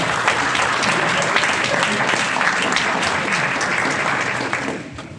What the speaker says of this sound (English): give the previous administration and some of you that are still here a round of applause